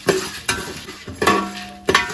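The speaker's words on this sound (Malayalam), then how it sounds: "നന്നായി ഇളക്കി കൊടുക്കാം." A spoon scrapes and knocks in a pan as chana dal is stirred in sesame oil, a few distinct strokes over a faint background of sizzling.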